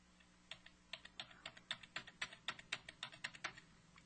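Arrow keys tapped on a computer keyboard in a quick run of about twenty crisp, close clicks with an uneven rhythm, quiet and alone.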